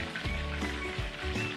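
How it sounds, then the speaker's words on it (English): Chicken deep frying in hot oil during a second fry, a steady close crackle and bubble with soft pops. "deep frying sound right now"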